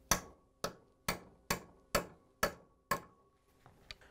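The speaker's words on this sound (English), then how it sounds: "We're going to give it a few taps with the hammer." A hammer gives a center punch seven sharp, evenly spaced taps to mark a hole for drilling on a Samsung front caster wheel part, close but fairly quiet, with faint clicks after.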